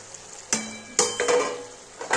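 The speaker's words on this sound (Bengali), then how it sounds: "এবার আমি মাছগুলো সব দিয়ে দিচ্ছি।" Small fish dropped into boiling curry water in a pan with potato and eggplant, a few sharp splashing clatters followed by bubbling sizzle, close and moderately quiet.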